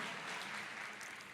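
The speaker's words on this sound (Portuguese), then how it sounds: "Aliás, aplauda o Senhor." Congregation applauding during a church sermon, a brief wash of steady clapping, faint and distant.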